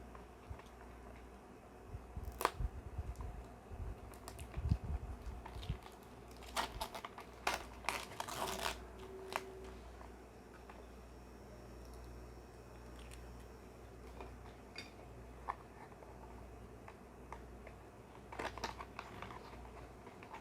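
Plastic packaging around Mini GT model Corvette C8 cars is pried open, with faint scattered clicks, crinkles and sharp snaps in bursts separated by quiet stretches.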